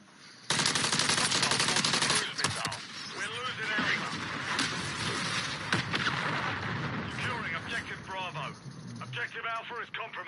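Rapid game gunfire from a Call of Duty match, with dense bursts of automatic fire and explosions up close, layered under in-game radio voice callouts throughout.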